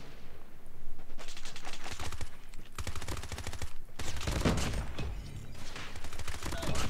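A CBR gun fires in a video game in long rapid automatic bursts, loud and close, with short pauses between the strings of shots.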